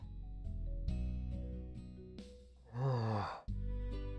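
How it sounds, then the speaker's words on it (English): A single long yawn in a quiet room: a breathy, rising-then-falling voiced exhale near the mic, heard over steady background music from a game. "why am I yawning so much?"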